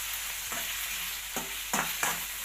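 Small-cut tomato pieces cook down in a pan for paneer curry, a steady hiss of frying broken by several sharp spoon scrapes as they are stirred.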